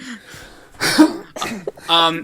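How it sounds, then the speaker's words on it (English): A few harsh coughs and throat clearing close to the microphone, in short bursts. "Sorry, I'm coughing so much."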